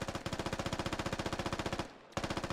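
Rapid automatic gunfire in the video game SquadOps rattles in a fast, even stream of loud shots, cuts out briefly near the end, then resumes, with no talking over it.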